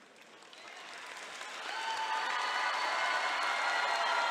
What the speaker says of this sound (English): stand and salute with your applause your family and friends